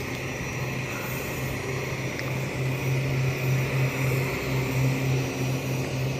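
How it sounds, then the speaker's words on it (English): A propeller aircraft drones steadily at Springfield-Branson National Airport, a continuous engine hum with a low pulsing tone that swells slightly, heard outdoors from a moderate distance with no talking. "We have another plane coming in, one after another."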